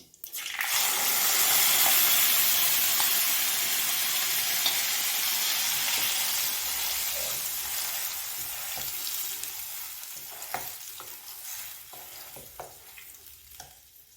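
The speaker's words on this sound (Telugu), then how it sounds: "సిమ్లో పెట్టుకొని కొంచెం వేగిన తర్వాత ఈ పేస్ట్ వేసేసుకుందాం" Spice paste frying in a pan over a low flame for matar paneer, a loud broad sizzle that eases off over time, with a few utensil knocks near the end.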